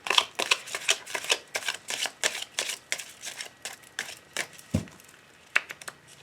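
Oracle cards being shuffled for a love reading, a quick run of crisp riffling snaps in a steady rhythm, close and fairly loud, with no talking.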